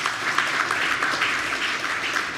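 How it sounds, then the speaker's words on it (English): Audience applause at a school speech day prize giving, a loud, dense and continuous wash of clapping filling the hall for a couple of seconds. "I think we can applaud."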